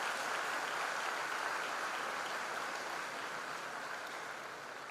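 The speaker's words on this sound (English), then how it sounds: "Please give a big applause to them." An audience applauds new freshers at an induction programme, a dense, sustained wash of clapping from a large crowd that fades slightly toward the end.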